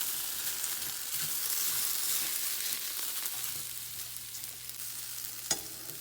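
Water from a tea kettle hits a hot oiled pan and sizzles loudly and steadily, the hiss easing slightly over several seconds, with a faint utensil clink near the end.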